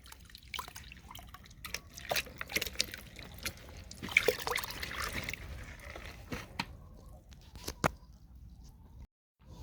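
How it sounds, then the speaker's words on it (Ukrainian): Liquid spray solution for treating blueberry bushes drips and trickles through a strainer, a close, irregular patter of drops and small splashes lasting several seconds before stopping abruptly. "І бачимо, якщо він досить добре цідиться, без затримки"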